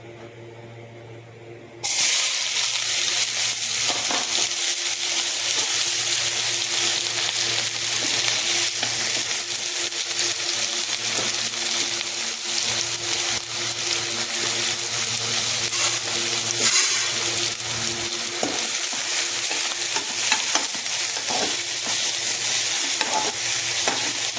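Mutton hits hot mustard oil with a sudden loud sizzle and stays crackling and hissing steadily up close. Stirring runs throughout, and there is no talking.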